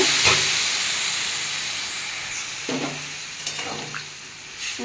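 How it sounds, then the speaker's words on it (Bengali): Water poured into a pan of cauliflower and potato posto on a gas stove sets off a broad steady hiss of steam, with several short sputtering bursts breaking through, close and alone without voices. "আমি এর মধ্যে আবার জল দিয়ে দেবো সেদ্ধ হওয়ার জন্য"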